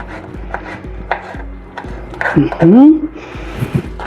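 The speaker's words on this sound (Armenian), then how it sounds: "Ես նույնիսկ կեղևով մի փոքր կտրատում եմ կիտրոն" Steady knife chops on a cutting board as a lemon is cut with its peel, a regular series of thuds, with a voice talking over them and a brief squeaky sound near the middle.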